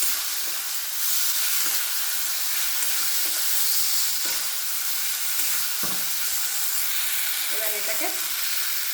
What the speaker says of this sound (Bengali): আর এটাতে অ্যাড করব টমেটো কুচো আর দুটো গোটা লঙ্কা